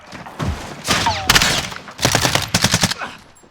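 Automatic gunfire rattles in a Call of Duty Warzone match, loud bursts and rapid strings of shots close by, with a brief whistling effect between them and no talk.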